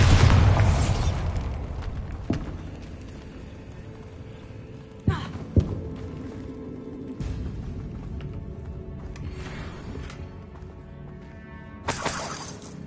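A loud Bombarda spell blast in Hogwarts Legacy on PS5 opens with a booming, shattering burst that fades out, followed by several sharp cracks and smaller impacts and another bright burst near the end.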